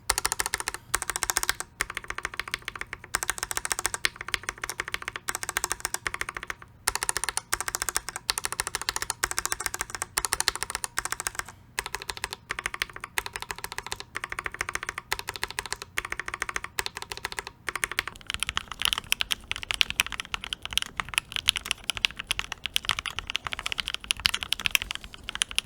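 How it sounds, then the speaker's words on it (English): Steady, rapid typing on a mechanical keyboard with filmed and lubed Banana Split linear switches, smooth, muted keystrokes, continuous and close throughout, with a slightly busier, brighter stretch toward the end. "put the stock versions of each switch next to a filmed and lubed version of each switch"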